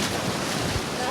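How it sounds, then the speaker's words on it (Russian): Sea waves wash onto a sandy beach in Ochamchira district, a steady broadband rush of surf and foam with wind across the microphone, continuous and fairly loud throughout. "Волны то шепотом, то смеясь подступают к берегу, оставляя на песке тонкие кружева пены"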